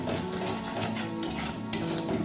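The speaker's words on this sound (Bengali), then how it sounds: "এবার মশলাটাকে খুব ভালোভাবে কষিয়ে নেব।" Salt, turmeric and chili powder are stirred in a pan. A spoon scrapes and clinks against the metal over a soft sizzle, with a sharper clatter near the end.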